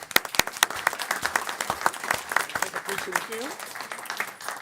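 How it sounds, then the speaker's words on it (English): A crowd claps in a round of applause, sharp hand claps fading toward the end, with a voice speaking briefly over the clapping. "so that we can give that group a round of applause."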